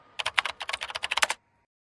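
Rapid keystrokes on a computer keyboard, about a dozen clicks in a quick burst lasting just over a second, close and clear, then silence.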